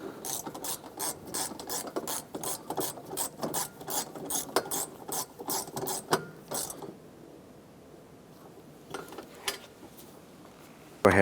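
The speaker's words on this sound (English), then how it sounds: "let's go ahead and tighten down the bolt in the back here." Close ratchet wrench clicking as a strut bolt is tightened on a 2004-2008 Acura TL, with a fast regular series of ticks for about seven seconds, then quiet and a few final clicks.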